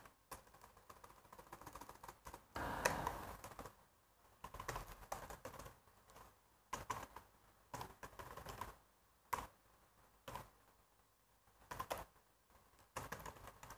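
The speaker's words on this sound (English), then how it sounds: "So I'll type the complete address here." Keys tapped on a computer keyboard while entering a web address, in quick bursts of clicks separated by short pauses, close and fairly quiet with no talking.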